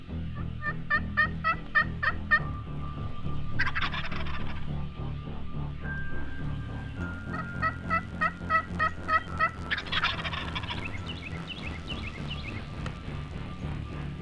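Wild Osceola turkeys gobble repeatedly in rolling bursts, several calls overlapping at a moderate distance over a steady outdoor hum.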